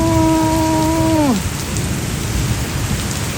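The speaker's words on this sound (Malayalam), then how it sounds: "അപ്പോൾ നമ്മൾ നല്ല മഴയുണ്ട് കേട്ടോ. അതേ നല്ല സൂപ്പർ മഴയാണ്." Heavy rain at night pours in a loud, dense, steady wash throughout, with a falling electronic tone fading out over the first second or so.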